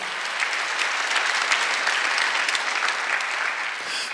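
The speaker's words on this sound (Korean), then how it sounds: "믿는 사람만 박수 치시기 바랍니다" A church congregation at a Sunday worship service claps together, dense steady applause filling the room for several seconds at an even loudness.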